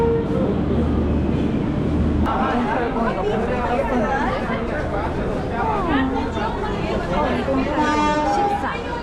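Busy railway station in Delhi, India, with steady crowd chatter and a low rumbling train filling the background, continuous and close throughout.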